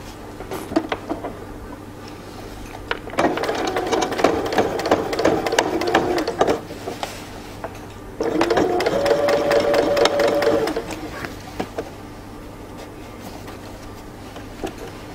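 A sewing machine top stitches the hem of drawstring pants in two steady runs of rapid mechanical stitching with a short pause between, fairly close and with no talking.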